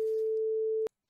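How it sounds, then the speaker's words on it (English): A steady 440 Hz sine tone generated by a short libsoundio C++ sample program holds one constant pitch for under a second, then cuts off abruptly with a click into silence. "you can hear that it's playing a sine wave."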